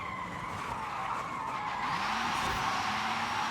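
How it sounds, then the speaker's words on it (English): Car drifting in Forza Horizon 5, tires squealing loudly in a sustained screech over the engine's steady drone, rising in intensity midway through the slide. "That was a cool drift."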